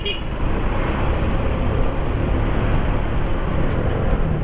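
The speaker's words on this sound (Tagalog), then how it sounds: "Tapos traffic din dito sa service road." Road traffic on the C5 road and its service road, a loud, steady wash of engine rumble and tire noise that stays unbroken from close by, with no voices.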